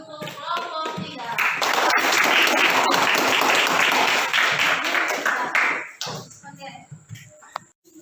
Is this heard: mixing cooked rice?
no